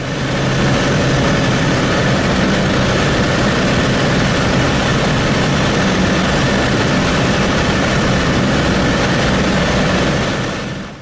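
A small airplane's engine drones loudly and steadily throughout while flying the downwind leg of the landing pattern toward runway 4, heard from inside the cabin with no break.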